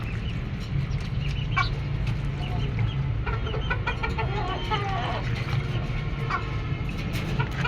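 A flock of poultry chickens clucks repeatedly, with scattered calls over a steady low rumble and general farmyard background.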